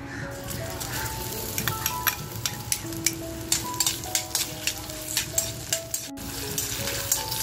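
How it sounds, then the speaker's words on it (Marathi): Onion fries in a little oil in a pan, giving a steady sizzle with regular spoon taps and stirring clicks over it. Soft tones play in the background. "बघा थोडंसं तेल टाकून आहे ना अगोदर आपल्याला कांदा छान असा भाजून घ्यायचा आहे"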